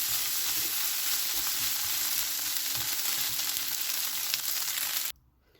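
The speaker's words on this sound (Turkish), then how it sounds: "Şöyle iyice kızartıp kurutacağım yani tavuklarımı biraz." Steady, dense sizzling of chicken pieces frying in a pan for a chicken wrap, loud and close, cutting off abruptly near the end.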